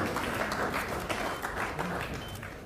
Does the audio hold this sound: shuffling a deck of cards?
no